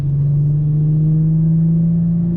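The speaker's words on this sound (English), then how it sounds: "that's how you downshift right there, all the way to 0. Upshift." An Infiniti car engine hums inside the cabin at a steady low pitch that creeps slightly higher, a continuous close drone with no distinct gear-change jolt.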